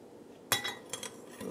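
Salt, fish stock and vinegar being mixed in a bowl for sushi rice, heard as a few quick clinks and scrapes of a utensil against the bowl, close and faint.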